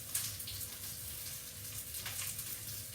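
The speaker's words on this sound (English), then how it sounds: "You can tell that it's hot because of the simmering of the onions." Onions simmering in hot oil in a pan, a faint continuous hiss and crackle with no talk.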